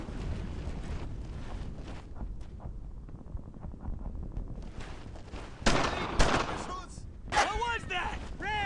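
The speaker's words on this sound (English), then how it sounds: "That's a flak gun." A flak gun fires in the World War II shooter Brothers in Arms: Earned in Blood, set in a German-occupied French village. Rapid muffled gunfire and battle noise build to several loud bursts near the end, with shouting voices among them.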